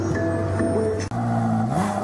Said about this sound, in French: Je vous emmène faire un tour de Ferrari.